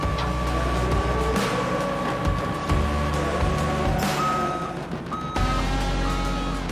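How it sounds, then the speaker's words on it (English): A forklift works while hoisting a forklift engine out, its low diesel drone steady throughout with repeated reversing beeps, close and loud, alongside clanks of workshop activity. "lifting a forklift motor out to put another forklift motor in, using a forklift"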